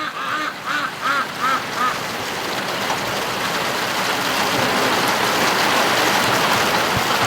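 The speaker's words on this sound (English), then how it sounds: "at the rate it's raining, we're going to get her" Heavy rain pours steadily outdoors in a yard during a serious storm, a dense continuous hiss that builds louder over the clip, with a few duck quacks near the start.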